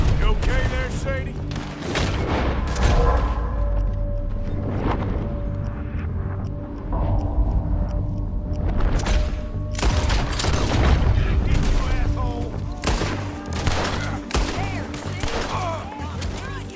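Rapid gunfire in Red Dead Redemption 2, a dense run of loud sharp shots and booming blasts in bursts with short pauses, voices speaking in between.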